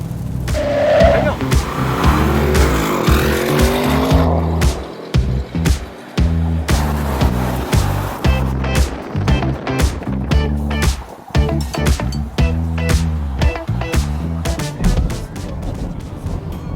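An Audi RS 6 Avant wagon driven in sport mode, its engine revving and shifting loudly and close, with tyre noise, under steady male speech throughout.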